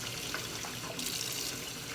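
Running tap water splashes steadily over soapy wet felt being rinsed and squeezed, a continuous close hiss of water with no talking.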